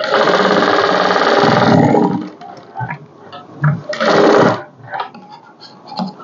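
Sewing machine stitching a blouse, a loud whirring run of stitching followed by shorter bursts and stops with small mechanical clicks between.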